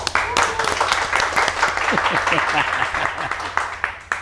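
Studio audience at an Indonesian podcast taping claps for a guest, a busy patter of handclaps running steadily throughout with voices talking over it.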